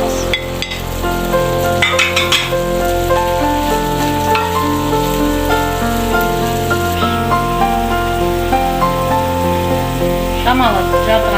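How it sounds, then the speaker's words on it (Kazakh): Cabbage fries with onion and chicken in a pan, a loud continuous sizzle with occasional scraping stirs and a rhythmic wavering hum beneath. "Жетіп шала піскенше осылай қуырып аламыз."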